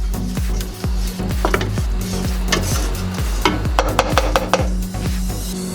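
A butter and flour roux for mac and cheese cooks in a pan with a steady soft sizzle, while a utensil stirs and scrapes against the pan in a regular rhythm, close and fairly loud.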